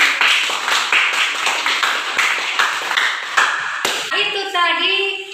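A classroom of students claps rhythmically in a series of sharp, close hand claps, with children's voices chanting over the final second.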